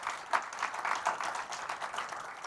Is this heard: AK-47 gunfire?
no